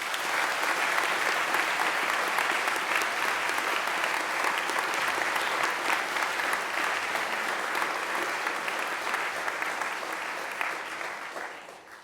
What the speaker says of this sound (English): how about another round of applause for Michael and Dalen for playing us in this morning?